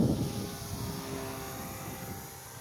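A radio-controlled model propeller airplane drones steadily overhead, its buzzing engine fading slightly as it moves away.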